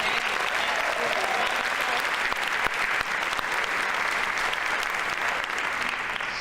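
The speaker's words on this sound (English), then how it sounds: "let's give her a round of applause, please" A convocation audience at a hospital staff day breaks into sustained applause for a performer, a dense, steady wash of many hands clapping at close range throughout.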